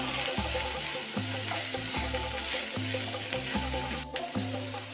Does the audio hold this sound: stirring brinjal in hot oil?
yes